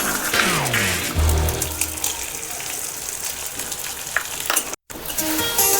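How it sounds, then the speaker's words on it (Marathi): Edible gum (dink) roasting in hot ghee gives a steady close bubbling hiss that runs throughout, with a brief dropout near the end. "तूप चांगलं कडकडीत गरम करून घेऊया आपलं तूप चांगले गरम झालेले आहे आता आपण थोडा थोडा करून डिंक भाजून घेऊया"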